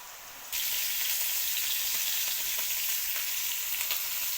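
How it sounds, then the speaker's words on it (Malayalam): Steady, loud sizzling of chicken frying in hot oil in a pan, a dense crackling hiss that starts abruptly and continues without pause. "ചിക്കൻ പൊരിക്കുന്നുണ്ട്"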